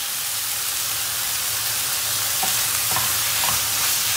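Roasted tomato paste goes onto tomatoes in a pan for a zucchini oturtma dish, with a steady loud sizzle and a few soft scraping stirs near the end, no talking.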